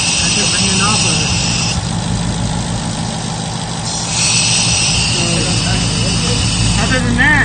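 A car engine idles steadily with a loud hiss from an uncapped port on an aftermarket intake manifold, the hiss cutting out for a couple of seconds as it is covered by a hand and then returning, up close.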